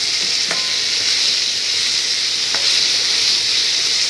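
Onion, capsicum and ginger-garlic tempering sauté in a hot pan for a gobhi dish: a loud, steady, close sizzle with two brief spatula knocks and no voices.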